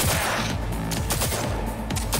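Rapid gunfire from a gun in the video game Cyberpunk 2077, loud close bursts of automatic shots in quick rhythm, continuous across the moment with sharp repeated cracks.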